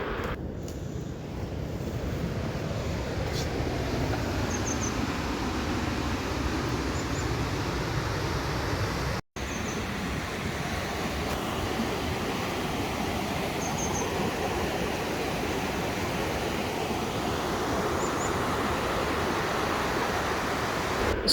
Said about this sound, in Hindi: जहाँ पे सिर्फ चंद परिंदों की आवाज़ें थीं और पानी की आवाज़ थी। सुनिएगा।